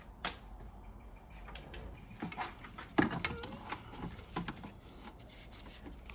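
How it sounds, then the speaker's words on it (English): A small ratchet works engine mount bolts out of a 2000 Volvo V40, quiet clicking and metallic taps in irregular bursts against a low background, with sharper knocks around the middle, close by and with no talking. "Since I already loosened them, just using a small ratchet here to take them out"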